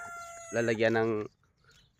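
A chicken on a farm in Saudi Arabia, kept alongside goats, gives one loud, harmonic, crow-like call lasting under a second, followed by faint quiet and brief murmured speech.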